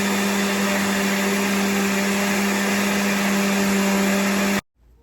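A blender blending watermelon runs loud and steady with a constant motor whine, then cuts off abruptly near the end.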